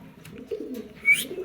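A male racing pigeon gives a soft, low coo in a few short, faint pulses, close by in an otherwise quiet space, with a light scratchy sound near the end.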